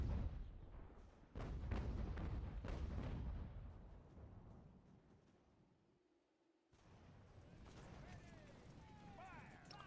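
Booming artillery volleys from cannons in the game Ultimate General: American Revolution, several heavy thumps in the first seconds that fade out, then a short silence before distant battle noise returns.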